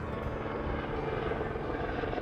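A helicopter flying during an aerial pig hunt over farmland in the South Delta, a loud, steady rotor and engine roar filling the whole clip with no break.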